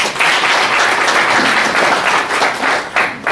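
An audience at a lecture on freeing rivers from pollution in Satara breaks into loud, sustained applause, a dense wash of many hands clapping that fades briefly near the end before swelling again.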